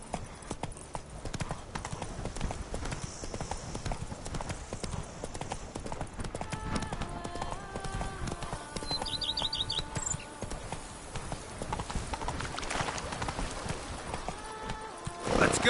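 Roach the horse galloping in a video game, with quick rhythmic hoofbeats running throughout, a whinny partway through, and bird chirps in the background.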